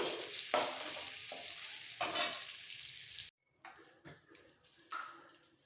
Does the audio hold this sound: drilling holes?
no